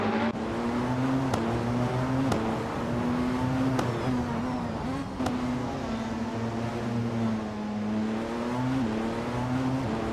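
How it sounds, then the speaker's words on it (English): A 2014 Audi R18 e-tron quattro race car drives in a racing game, its engine holding a steady mid-pitched drone with brief shifts and sharp clicks of gear changes throughout, continuous and fairly close. "driving an Audi R18e Tron Quattro from 2014"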